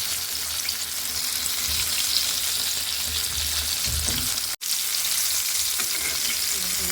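Chicken pieces coated in flattened rice (chira) fry in hot oil, giving a loud, steady sizzle that runs throughout with a brief dropout near the middle.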